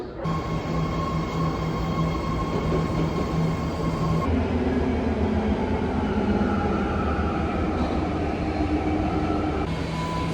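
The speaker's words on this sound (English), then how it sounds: "So I got off BART here at Millbrae station." A BART train at Millbrae station rumbles loudly nearby with a steady mechanical hum and high tonal whine from the cars, the pitch shifting partway through as it moves, no voices.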